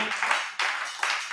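Church congregation applauding at a Sunday service as people come forward, a bright burst of hand clapping that swells, dips and surges again in quick waves, moderately close.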